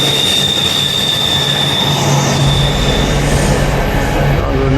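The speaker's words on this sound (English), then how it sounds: "That's rail freight going past at the moment" A rail freight train rumbles past close by, loud and continuous, with squealing wheels and high metallic tones riding over the heavy rolling roar throughout.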